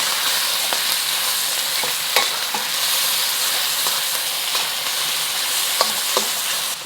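Pork searing and frying in a pan, a steady close sizzle with occasional brief pops and crackles throughout, no talking.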